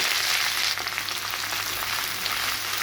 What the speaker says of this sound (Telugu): ఇదే ఆయిల్లో మళ్ళీ కొంచెము ఈ పుదీనా వేసి